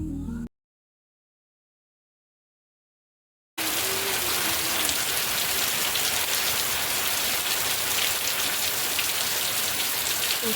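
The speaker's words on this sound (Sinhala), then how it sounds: "ටිකකින් හොඳටම වහින්න පටන් ගත්තා" Heavy rain pours steadily in a dense, even hiss that stays strong and constant for several seconds after a brief silent gap near the start.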